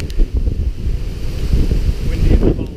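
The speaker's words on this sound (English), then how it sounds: "So windy, isn't it?" Strong, gusty wind on a Hong Kong running trail buffets the microphone in loud, low roaring bursts that continue throughout.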